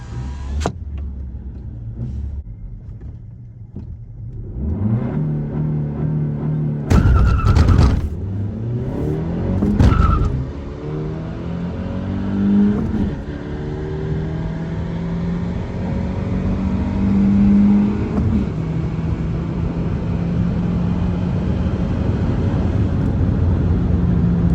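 A manual-transmission daily driver car launching down a drag strip, engine roaring and revving up through gears with shifts and dips in pitch, loud and close, with a sustained strained drone.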